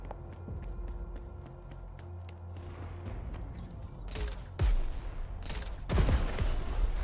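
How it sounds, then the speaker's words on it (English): A video game grenade launcher loaded with explosives fires, with a mechanical clatter and light footsteps leading into a few sharp, loud blasts close by that ring out over a low background hum. "The grenade launcher. Such a classic. Loaded with explosives Classic. and fire away."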